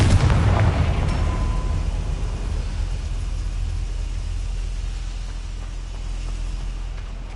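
Bombarda and Confringo explosion spells cast in Hogwarts Legacy, a loud booming blast up front that decays into a long rumbling low roar and fades slowly, with no talking.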